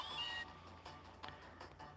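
A cat meows briefly near the start, a short tonal call followed by quiet room noise with faint clicks and a low steady hum.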